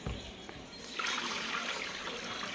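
Water pours and splashes in a steady stream during washing at home, growing louder and fuller after a quieter start and continuing evenly.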